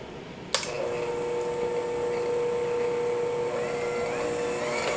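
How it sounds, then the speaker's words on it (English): An electric hand mixer blends homemade vegan yogurt made with soy milk, starting with a sharp click and then running as a steady, loud whir with a constant tone for the rest of the clip. "Then we'll just use our mixer here."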